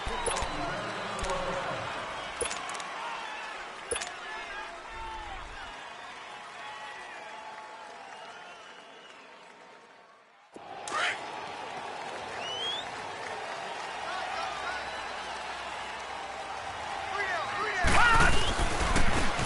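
A stadium crowd cheers and roars in the Madden NFL video game before a Baltimore Ravens versus Cleveland Browns matchup. The steady crowd wash sits under commentary, briefly drops out, then swells louder at the end.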